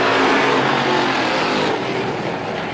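Race cars roaring around the oval at Star Speedway during a strictly heat, a loud, dense engine drone with a sustained pitch that slowly fades.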